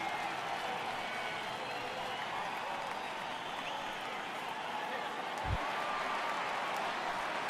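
Steady, dense crowd noise from a home baseball crowd at Petco Park in MLB The Show 18, a continuous wash of cheering and murmur throughout with one brief low thump near the end.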